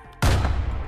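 A hand cannon fires in the VR game Brutalistick, one sudden loud close blast after a brief quiet moment, trailing into a booming rumble.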